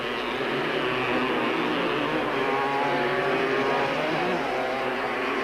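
Yamaha Blaster racing quads at a 1997 Super Series race, engines droning steadily and loud throughout with rising and falling revs as riders battle for the lead on a rough, worn track.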